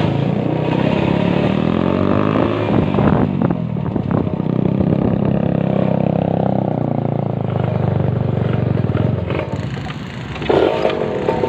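Kawasaki Ninja and Yamaha R15 motorcycles starting up and idling, a loud, steady engine rumble close by, with throttle blips toward the end.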